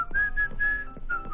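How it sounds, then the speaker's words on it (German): A person whistles a short, wavering tune close to the microphone, several sustained notes with small breaks between them, alone with no talking. "Das Pfeifen dürfte jetzt nicht laut sein"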